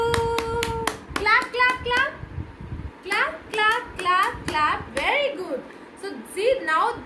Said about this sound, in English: Let's clap for you.